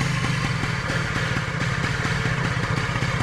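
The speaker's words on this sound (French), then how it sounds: "laisse-le au ralenti juste pour voir" Old moped engine, a long-abandoned broken-down Mobylette, idling steadily with a fast, even putter and light mechanical clatter, loud and close throughout with no talking.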